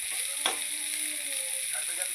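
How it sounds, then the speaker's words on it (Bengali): A continuous hissing sizzle of potato and cauliflower frying in a pan, with a single clink of a stirring utensil near the start and faint scraping afterward. Close, no voices. "আলু ফুলকপি ভেজে নিলাম, রাতে তো খেতে হবে।"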